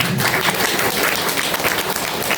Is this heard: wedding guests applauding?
yes